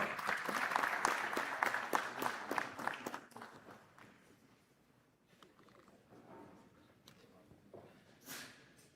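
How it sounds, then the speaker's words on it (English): A brief round of applause at a medical college white coat ceremony, clapping that fades over a few seconds and leaves a quiet hall with scattered small noises and faint voices. "A big round of applause to our career guidance."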